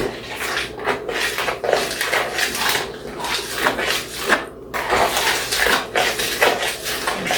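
A utensil stirring butter cookie dough made with salted butter and powdered milk in a bowl, giving continuous close scraping, rubbing and light clinking in an uneven rhythm.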